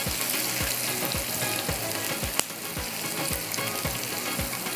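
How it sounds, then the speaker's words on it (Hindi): Onions and kebabs fry in a pan for a Behari-style kebab biryani, giving a steady close sizzle with a regular series of soft knocks and stirring sounds, and no voices. "टर्न कर लीजिएगा ताकि कबाब भी आपके अच्छी तरह से हो जाए और ये प्याज जो है ये भी थोड़ा सा फ्राई हो जाए"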